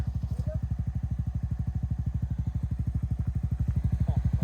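A Honda CRF250 dirt bike engine runs steadily at close range, its rapid, even pulses of exhaust thumping without a break, with a faint voice in the background.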